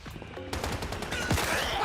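Zombie enemies fire guns in the survival game Once Human, producing a rapid burst of overlapping gunshots that rattles on steadily and fairly loudly.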